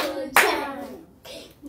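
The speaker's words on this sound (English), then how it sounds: "Give yourself a big clap." A single sharp clap rings out, followed by a short scatter of quieter hand sounds and a brief faint burst near the end, close and distinct in a children's Bible lesson setting.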